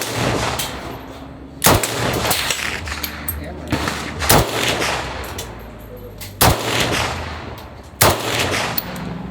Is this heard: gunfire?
yes